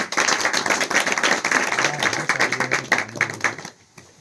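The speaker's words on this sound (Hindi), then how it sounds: "आइए शीतल, तालियों से स्वागत करेंगे" An audience claps to welcome a Class 10 schoolgirl onto the stage at a 2024 New Year celebration. The dense, steady clapping lasts several seconds, then thins and fades near the end, with a faint voice underneath.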